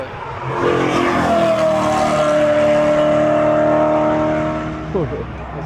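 A car drives past on the Nürburgring track, its engine a loud sustained drone that holds a steady pitch and then dips as it moves away near the end.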